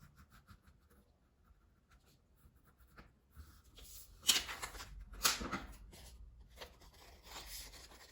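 Pencil tracing a pattern onto folded fabric or paper for a patchwork keychain: soft scratchy strokes that grow louder near the middle, with a few sharper rubbing bursts and quieter faint scratching at the start.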